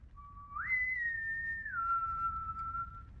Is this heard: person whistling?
yes